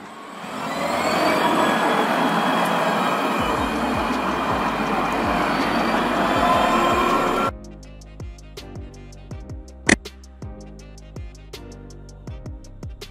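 A tram-train light rail vehicle runs with a loud, steady rumble for several seconds, then the sound cuts to a quieter stretch with faint rhythmic clicks and a single sharp knock.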